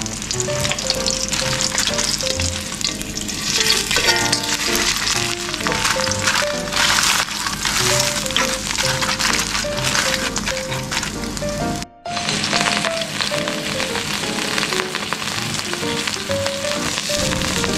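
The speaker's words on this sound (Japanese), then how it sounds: "熱を通りやすくするためにアルミホイルを使い蓋をして両面しっかり焼きます" Chicken pan-frying under an aluminium foil lid gives a steady, loud sizzle with crackling pops that runs continuously, with a brief dropout partway through and music-like tones layered over it.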